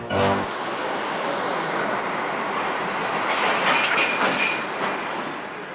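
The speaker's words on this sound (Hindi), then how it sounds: "अरे पापा ट्रेन आगे चली भी गई" A train pulls away from a station with a sustained rumble of wheels and carriages, clicking and faint squeals over a steady roar that swells midway and eases toward the end.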